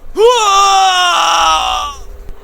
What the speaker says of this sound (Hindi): जोर से वो चिल्ला उठा।